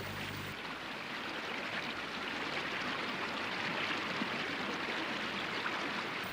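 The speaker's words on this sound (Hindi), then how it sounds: "ये परम पावनी सर्व पापनाशिनी गंगा हैं, इन्हें प्रणाम करो" The Ganges river flows as a steady broadband rush of water, continuous and even, with no voices over it.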